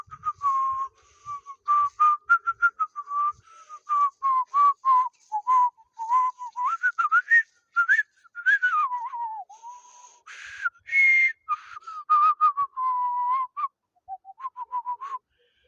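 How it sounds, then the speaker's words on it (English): A person whistles the theme tune of the show The Owl House alone, clear and close, in quick phrases of short notes with brief pauses, the pitch rising and falling steadily. "I was sitting and whistling the theme of the show"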